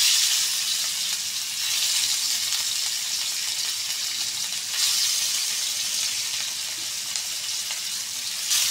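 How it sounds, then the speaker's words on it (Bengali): Small pieces of rohu fish, rubbed with salt and turmeric, frying in hot oil in a pan, a loud continuous sizzle and crackle that swells and eases slightly, with no talking. "মাছটা আমি বেজে নেই"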